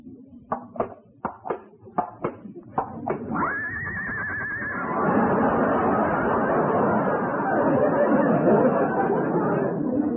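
On an old radio comedy show, a series of sharp clip-clop knocks leads into a long horse whinny sound effect, then a swell of audience laughter and chatter.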